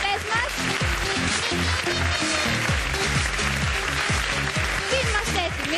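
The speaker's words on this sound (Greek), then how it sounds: "Ένα θερμό χειροκρότημα για τους κριτές μας" A television dance-competition studio audience gives a warm round of applause for the judging panel, the clapping spread across the room beneath a prominent voice and music playing over it.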